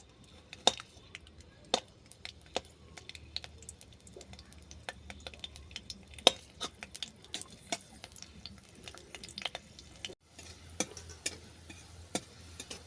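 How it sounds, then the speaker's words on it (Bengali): Peeled garlic fries gently in oil in a pan, a faint, steady sizzle under sharp, scattered clicks and taps of a utensil stirring against the metal. "রসুনটাকে আমি বাদামি করে ভেজে নেব।"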